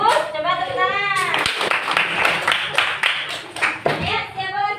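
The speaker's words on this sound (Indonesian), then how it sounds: "coba tepuk tangan" A classroom of children claps together after a science lesson, a burst of quick, close hand claps under excited young voices that carry on throughout.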